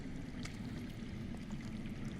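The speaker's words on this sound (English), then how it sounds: "I hear water. From underground." In the Game of Thrones video game, water runs underground as a faint, steady rushing trickle with no other sounds over it.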